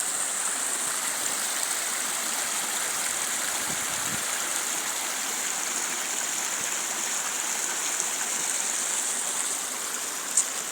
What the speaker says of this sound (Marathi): बघू शकता आता कसं पाणी वाजतंय.